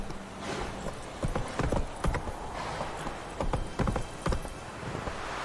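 Roach the horse gallops in The Witcher 3 video game, hooves clip-clopping in a quick, uneven rhythm of sharp thuds over a steady outdoor bed, fairly close and loud, with no talking.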